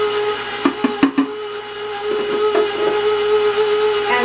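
Electric mixer beating jam cake batter on medium high, a steady whirring hum with a few brief knocks and clunks early on, running close and loud with no talking.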